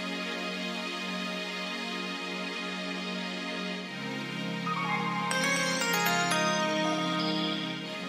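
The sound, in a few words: R&B beat with piano and sparkle sounds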